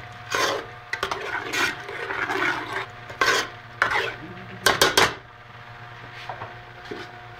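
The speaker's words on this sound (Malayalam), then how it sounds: "നമ്മൾ അരിഞ്ഞു വെച്ചിരിക്കുന്ന ഒട്ടകത്തിൻ്റെ ഇറച്ചി നമ്മൾ ഈ ഗ്രേവിയിലേക്ക് ഇടുകയാണ്." Chopped camel meat is tipped into gravy and stirred, giving a series of close wooden scrapes and bursts of clatter, some quick in succession, then fading to quiet.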